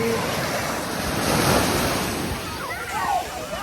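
Sea waves washing in with a steady surf roar and wind buffeting the microphone, close and continuous, with voices faintly audible underneath.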